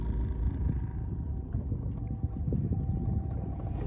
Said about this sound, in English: all of the maneuvering now is being done by the trolling motor